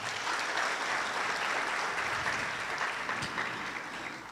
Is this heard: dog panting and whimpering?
no